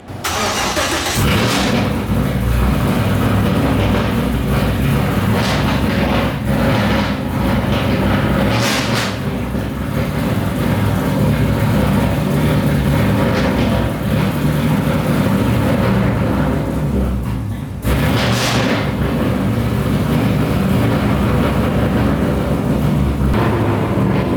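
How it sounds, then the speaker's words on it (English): An LS3 V8 swapped into a Mazda Miata cranks over and fires up, then runs with a loud, continuous engine roar and a few sharp revs, close by, with no talking. "So we're gonna fire it up and see what it sounds like"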